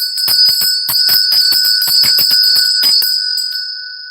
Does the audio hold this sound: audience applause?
no